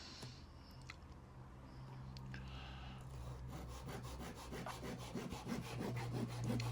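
Fine Japanese hand saw cutting thin wooden splines of about 2.5mm to size, quick rhythmic back-and-forth rasping strokes that grow faster and denser, close and quiet, with no talk.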